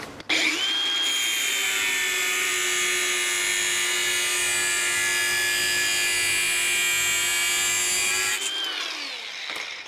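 An angle grinder trims the bottom of Camaro body sheet metal, a loud sustained high-pitched whine with no gaps, spinning up at the start and winding down near the end, close and alone without talk.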